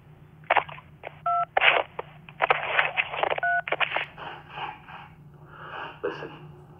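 Telephone keypad dialing tones sound over a speakerphone: short paired beeps mixed with noisy bursts and rustling in a quiet room, moderately faint and irregularly spaced.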